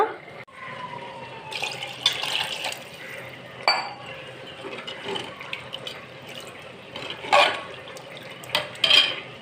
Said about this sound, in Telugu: ఇప్పుడు మనకి క్వాంటిటీ ఎంత కావాలో అంత నీళ్లు పోసేసి మరిగిస్తా